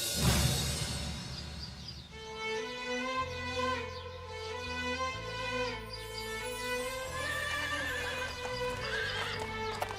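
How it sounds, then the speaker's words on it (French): A horse whinnies and hooves clop over sustained orchestral music that plays throughout. "Le son des chevaux qui s'approchent."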